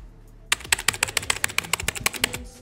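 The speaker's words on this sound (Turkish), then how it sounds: "sakın bir daha klavyeye basma ama kanka" Rapid computer keyboard typing, a dense run of sharp key clicks in quick succession, close and clear after a brief quiet start.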